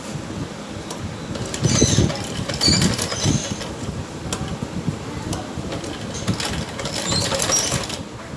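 Bursts of a sewing machine stitching the fitting seam on a blouse sleeve, rapid mechanical whirring and clatter that rises and falls in short runs over a quiet room background.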